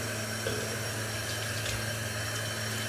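Tap water running steadily into a sink for washing the face before using a cleanser, a constant close splashing hiss with a low pump-like hum underneath and no talking.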